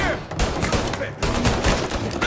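Gunfire in the video game Mafia Definitive Edition: dense, loud bursts of shots fill the whole clip with a brief gap near the middle, while game voices shout over the shooting.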